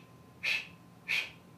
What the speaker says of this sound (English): So you want to take a big deep breath and hold it.